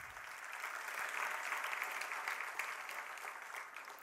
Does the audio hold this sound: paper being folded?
no